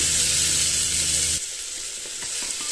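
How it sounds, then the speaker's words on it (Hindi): Tomatoes frying in a pan with ginger and garlic give a loud, steady sizzle that drops to a softer crackle partway through, as if stirred or the heat eased, with no voices. "टमाटर को भी हम अच्छे से पका लेते हैं।"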